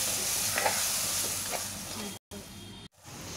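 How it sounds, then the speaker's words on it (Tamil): A tomato-onion paste for a chickpea kara kuzhambu is stirred as it fries in a pan, a steady close sizzle with scraping strokes of the spoon, broken by two brief gaps of silence near the end. "கலந்து விட்டுட்டு நல்லா கிளறி விடுங்க."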